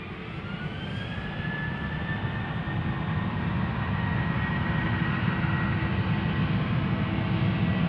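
A jet airliner at Schiphol Airport roars at a distance, its broad engine rumble and whine building steadily in loudness across the whole stretch, with no talk.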